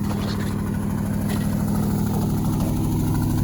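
A Ford Highboy truck engine idles steadily while warming up after a cold start in snow, a loud, constant low rumble that runs unbroken from start to finish with no voices.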